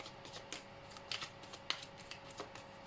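Tarot cards slid and laid down one over another on a table, a few soft, brief papery swishes and taps spaced apart, quiet and close with no talk.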